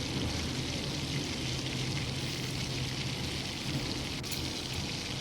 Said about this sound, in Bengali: মাছগুলো ভাজা হয়ে গেছে প্রায়